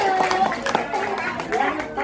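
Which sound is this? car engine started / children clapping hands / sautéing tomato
children clapping hands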